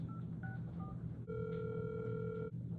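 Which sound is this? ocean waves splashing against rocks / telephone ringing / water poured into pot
telephone ringing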